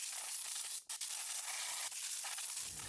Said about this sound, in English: grab some compressed air and blow all in this region to prevent any kind of debris falling down into our spark plug wells